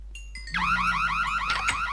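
A Minecraft prison-escape map sets off a loud wailing siren alarm after a brief beeping lead-in, the rising and falling tone repeating steadily for the rest of the moment with no talk over it.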